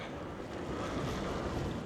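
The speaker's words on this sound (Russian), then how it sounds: "Ой-ой-ой, какой ветер сильный. Аж завывает." A strong wind howls and roars steadily across open ground, a dense close rush with buffeting against the microphone and no talking.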